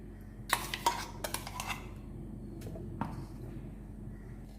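Clinks and scrapes of a utensil against a pan as ground carrot paste goes into roasted semolina for carrot rava kesari, a few sharp metallic taps early, then quieter stirring.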